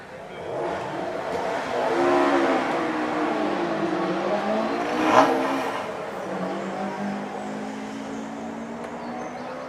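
A Renault Clio race car accelerates up the Doune hill climb course in the British Hillclimb Championship, engine pitch climbing through gear changes as it passes fairly close, then fading up the hill over about ten seconds.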